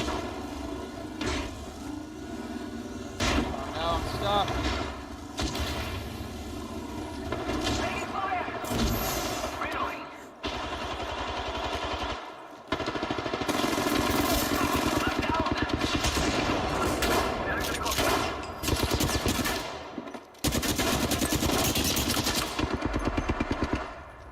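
Long stretches of loud, rapid automatic gunfire in the shooter game Apex Legends, bursts broken by brief gaps, mixed with heavy battle noise while a voice speaks intermittently underneath.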